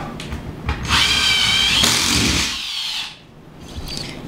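A power drill drives a bolt into a wall while a TV wall mount is being installed, a steady whirring buzz for about two seconds that winds down, followed by a short quieter stretch.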